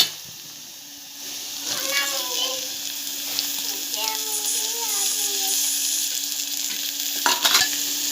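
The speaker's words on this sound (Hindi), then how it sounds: "इसको मैं थोड़ा मीडियम गैस की आंच पर थोड़ा टाइम तक इस करदी को तेल में भूनूंगी" Dried karadi frying in oil over a medium gas flame for a Konkani kaad curry, giving a steady broad sizzle with some stirring scrapes while someone talks over it.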